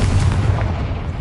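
A Confringo spell explosion in the video game Hogwarts Legacy bursts as a loud, deep boom with a rumbling low body that fades slowly over about a second.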